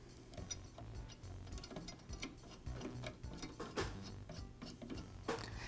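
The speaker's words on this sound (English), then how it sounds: "I'll thread the new clamp into place." Ratcheting, clicking mechanical turns as a new blade clamp knob is threaded into a DeWALT scroll saw, faint and steady with a rhythmic tick throughout, no talking.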